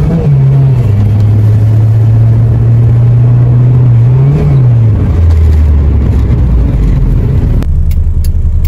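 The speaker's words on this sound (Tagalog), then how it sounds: "hinahataw ko talaga yung makina, hinahataw ko talaga yung sasakyan." A car engine revs hard while driving after a timing belt and engine repair, its steady loud drone holding pitch, rising briefly, then dropping lower as the car slows, with no talk over it.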